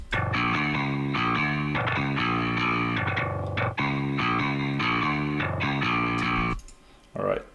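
Clean-tone layer of a metal bass guitar mix playing a dense, sustained riff with chugging repeated notes, loud and continuous before a brief trailing note at the end.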